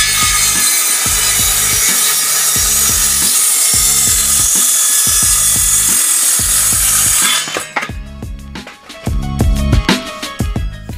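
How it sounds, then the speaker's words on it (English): A power saw cuts a spruce 2x12 board to length in steady repeated strokes, loud and close. It stops near the end, leaving scattered knocks and handling noise. "what I'm going to do is just cut it to the length of the stand right now"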